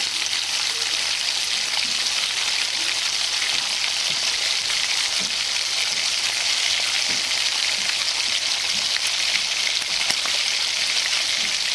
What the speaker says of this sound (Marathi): एका वेळेस 3-4 आपले तेलामध्ये जेवढे मावेल तेवढे वडे तयार करून टाकायचे.